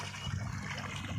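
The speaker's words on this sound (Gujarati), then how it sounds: "જો પાણી ચાલુ છે" Water pours steadily from a tanker into a jowar field, a continuous rushing and gurgling flow with no breaks, heard close and moderately loud.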